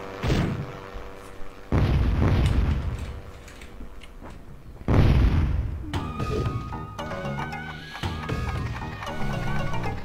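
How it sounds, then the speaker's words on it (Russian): Booming explosions from the video game Hogs of War burst out in several heavy blasts with decaying rumbles, mixed with game music and effects, and no one speaks. "Взрывается очень страшно."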